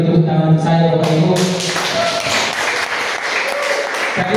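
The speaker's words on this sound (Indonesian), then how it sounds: "Berikan dulu tepuk tangan saya Bapak Ibu." People at an Indonesian school workshop applaud after a closing request, a loud, steady burst of clapping that begins under a voice finishing a sentence and then continues on its own.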